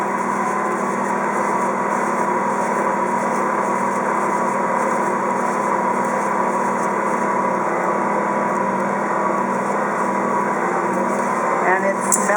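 An Ankarsrum Assistent Original stand mixer kneads dough with a steady, unbroken motor drone that holds at an even level throughout.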